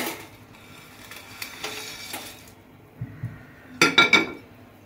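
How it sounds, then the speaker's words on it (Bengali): Noodles go into a pot while making chicken chowmein, with scattered close clinks and knocks of metal cookware and utensils that build to a cluster of louder clatters near the end. "এখন আমি নুডলসটা দিয়ে দেব।"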